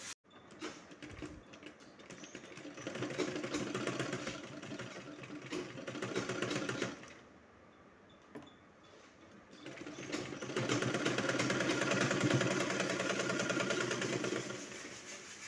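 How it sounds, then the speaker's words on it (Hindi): A sewing machine stitches lace onto a fabric strip for a small Laddu Gopal doll dress. It runs in a steady whirring burst, pauses briefly, then runs again in a second long stretch, fairly close and with no talking. "दूसरी पट्टी में भी हम इसी तरीके से सिलाई कर लेंगे।"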